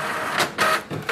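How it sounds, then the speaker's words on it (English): HP Envy 6458e inkjet printer printing a copy, a steady close mechanical whir with rhythmic swelling pulses as the paper feeds and the print head passes, heard without any voices. "Now wait for the printer to print."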